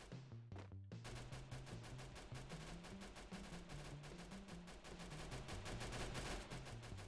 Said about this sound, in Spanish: se escucha tiros de otra arma que no es la tuya.